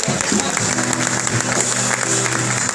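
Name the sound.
congregation applauding God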